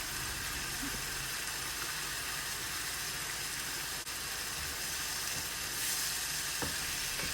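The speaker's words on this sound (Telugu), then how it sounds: "ప్యాన్లో 2 టేబుల్ స్పూన్ ఆయిల్, అది వేడైన తర్వాత ఒక పెద్ద ఉల్లిగడ్డ, 2 టమాటాలు, టేస్ట్ తగ్గట్టు సాల్ట్" A big onion and two tomatoes fry in two tablespoons of hot oil in a pan for an egg curry, giving a loud, steady sizzle and hiss throughout with a faint stir or clink.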